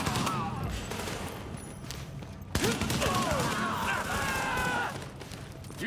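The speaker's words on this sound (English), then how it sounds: "We're taking heavy fire." Gunfire crackles through a video game firefight, with bursts of shots, a sharp bang partway in, and game dialogue and effects layered over the shooting.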